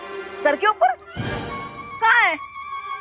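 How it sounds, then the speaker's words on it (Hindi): A magical warning-device alarm rings steadily with a repeating high electronic beeping through the clip, while someone speaks between bursts and a crashing whoosh cuts in midway. "ये एक चेतावनी यंत्र की आवाज है जो तुम्हारे सिर पर बज रहा है।"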